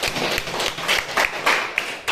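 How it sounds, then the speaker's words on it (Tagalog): Audience applause greets two poets at a Balagtasan debate, a lively crowd clapping with sharper individual claps standing out above a sustained wash of hands. "Ang hiling ko'y salubungin ng palakpak ang dalawa."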